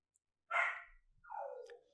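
A dog gives two short, breathy barks close by, a brief pause between them, in an otherwise quiet room.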